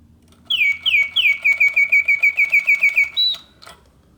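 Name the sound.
Reuge vintage mechanical singing bird automaton, double bird cage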